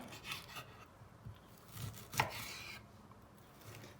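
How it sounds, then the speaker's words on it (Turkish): A knife chops raw liver on a board in a few quiet, uneven strokes, with one sharper cut standing out, close by in a hushed room. "Bu arada ben karaciğerlerimi doğramaya başlıyorum"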